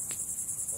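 Crickets chirp in a short burst, a steady high-pitched trill that pulses evenly and stays clear and fairly close, with no voices.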